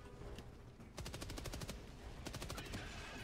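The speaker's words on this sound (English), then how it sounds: "It's my last reload of machine gun here." Rapid machine gun bursts in Hytale during a mission against Scarak bugs, two sustained volleys of fast regular shots over steady game ambience, loud and close.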